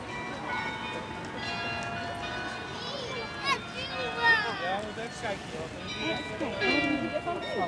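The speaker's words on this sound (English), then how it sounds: "the bell sound is coming from Rijksmuseum" Bells at the Rijksmuseum in Amsterdam ring out in sustained, overlapping tones over a steady outdoor street bed, with a few louder swells toward the middle and end.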